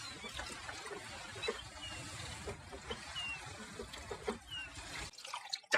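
Wine poured into a cup in a medieval hall scene, a steady trickling stream running under a murky background for about five seconds, then cutting off into near silence with a brief clink at the end.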